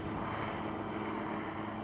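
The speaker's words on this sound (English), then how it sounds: "At last, the helicopter arrives to take them off the mountain" Rescue helicopter arriving over the Mont Blanc massif in the Alps, a steady, loud, continuous rotor and engine drone filling the whole moment with no voices.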